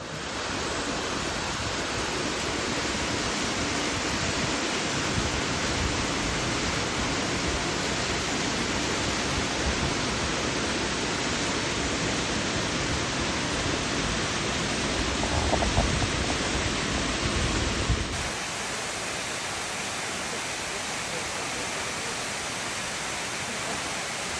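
Narada Falls at Mount Rainier roars as a steady, broadband waterfall rush, loud and close for about eighteen seconds before dropping to a softer, more distant wash.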